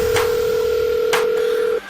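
A telephone gives a steady electronic dial-type tone lasting nearly two seconds, loud and close, broken by two brief clicks before it cuts off.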